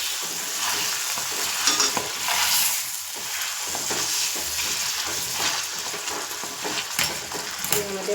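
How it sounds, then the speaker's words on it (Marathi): Tomatoes mashed and stirred in a hot pan, a steady scraping and soft sizzling with irregular clicks of the utensil against the metal, close and continuous throughout. "हे टोमॅटो मॅश करून घ्यायचे"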